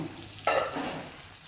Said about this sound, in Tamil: லோ ஃப்ளேமில் மூடி வச்சு வதங்க விடணும்